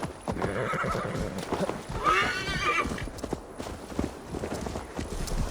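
Horse hooves clip-clop steadily at a riding pace in Assassin's Creed Valhalla, with a whinny rising in the middle, set under a continuous bed of game sound.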